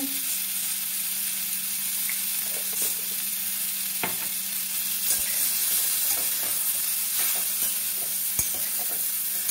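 Star fruit pickle with salt being stirred in a hot pan, a continuous soft sizzle with occasional scraping clicks of the spoon against the metal, steady and close.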